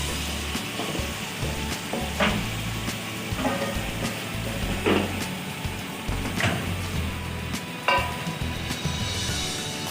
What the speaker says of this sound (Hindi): और अब हम इसमें डालेंगे हमारी मैरिनेशन की हुई जो चिकन थी, वो डाल देते हैं इसमें